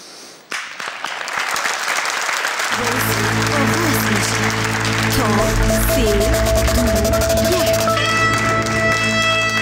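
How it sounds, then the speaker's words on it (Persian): A studio audience on a television game show applauds steadily and loudly, starting with a short burst and then swelling as music with sustained tones joins in and plays under the clapping. "تشویق میکنیم"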